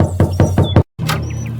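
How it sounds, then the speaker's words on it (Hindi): Four quick sharp knocks on a house door in a cartoon story, loud and close in an even rhythm, followed by a brief silence. "सोमू ने शमशेर के घर पहुंचकर दरवाजा खटखटाया।"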